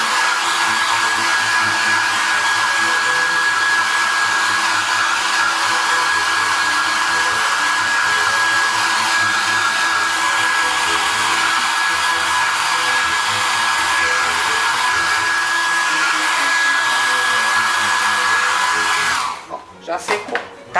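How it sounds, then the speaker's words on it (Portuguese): A hair dryer dries varnish on a craquelure-finish craft box, blowing as a loud, steady, close whir for about nineteen seconds before cutting off abruptly. "Ó o barulho do secador."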